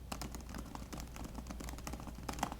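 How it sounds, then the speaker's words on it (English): Rapid typing on a Pixelbook Go laptop's quiet Hush keys, a steady stream of soft, close clicks and taps in a hushed room with no talking. "So I'm gonna be really quiet and just type really quickly on here."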